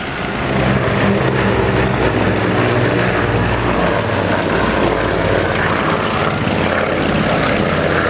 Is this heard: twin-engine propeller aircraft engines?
yes